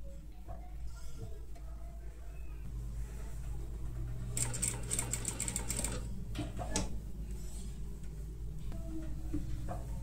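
Domestic sewing machine stitching a deep neck blouse, its motor whirring in a steady run for a couple of seconds amid quiet room noise, then falling away.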